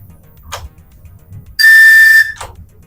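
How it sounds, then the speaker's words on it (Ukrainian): Steady piercing whistle from a locomotive ALSN safety system, triggered by holding two pedals together, sounds loud for about three quarters of a second between quieter clicks and low cab rumble. "Зажали разом і тримаємо, буде свисток і з'явиться точка."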